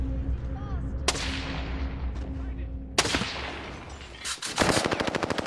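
Automatic gunfire rings out in a shooter video game. Scattered single shots with sharp cracks are followed by a fast, loud burst of rapid fire at the end, with faint background tones.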